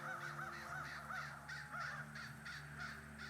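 Crows caw in Night of the Rabbit, a rapid string of harsh, rasping calls repeating in a steady rhythm over a quiet low drone, moderately close and without speech.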